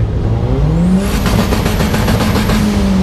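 A car engine revs hard and close, its pitch climbing and holding high as it roars, loud and steady with no talk.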